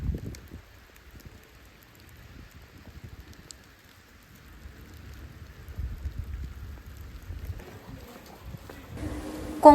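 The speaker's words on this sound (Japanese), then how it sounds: "めっちゃ雨です。" Heavy rain falling outdoors in Pécs, Hungary, a soft steady patter and low wash that swells gradually, with a louder clatter near the end and no talk.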